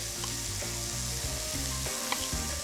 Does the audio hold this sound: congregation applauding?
no